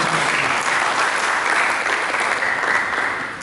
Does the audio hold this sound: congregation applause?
yes